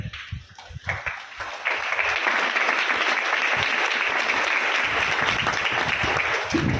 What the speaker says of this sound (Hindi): आप ताली देर से क्यों बजाते?